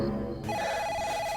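A telephone rings in an Uzbek comedy sketch, a short electronic ringtone with a steady warbling tone that starts abruptly and carries on without any talk.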